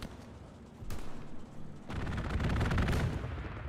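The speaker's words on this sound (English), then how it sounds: "I just got rinsed by another strafe run" Aircraft strafing gunfire in the World War II shooter Hell Let Loose, heard as a burst at about one second, then a louder, sustained crackle of rapid fire and impacts lasting over a second before fading.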